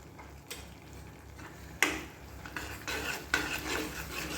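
A spoon stirs and scrapes milk barfi in a kadai with desi ghee, a few sharp metallic knocks against the pan over a low, quiet sizzle, close and unhurried.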